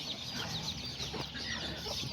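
Serama chickens and roosters cluck steadily in an outdoor pen, with a busy chorus of short, high, repeated calls from several birds close by and no talking.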